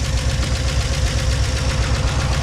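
A truck engine with a suspected head gasket problem runs close by with a rapid, steady knocking pulse over a loud low drone, no voices present.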